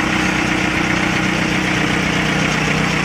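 A boat engine on a Sundarbans tour runs loud and steady, a constant droning rumble that fills the whole stretch with no break.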